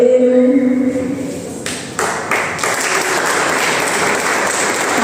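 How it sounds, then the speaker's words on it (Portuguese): A youth church gathering breaks into applause for a speaker as he is called up. A voice talks first, then dense crowd clapping swells in and holds steady and loud. "Uma salva de palmas pela vida dele"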